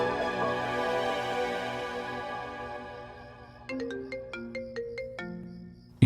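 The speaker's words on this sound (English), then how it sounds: "Your phone is ringing." A mobile phone ringtone rings nearby, first a sustained melodic tone that fades, then a series of bright, evenly spaced chime notes playing a short tune, with no talk over it.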